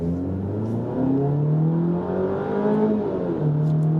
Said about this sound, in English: I'm gonna jam on that accelerator